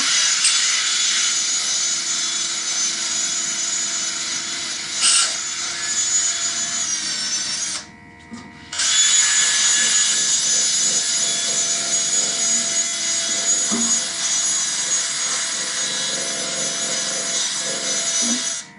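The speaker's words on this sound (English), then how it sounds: "I'm just trying to sand all this rust off" Abrasive wheel on a power tool sanding rust off a garden tiller, a steady loud bright grinding hiss running continuously with one short break midway, no talking.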